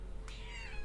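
A pet cat named Thief gives a single short meow, close by and fairly quiet, with no talk over it.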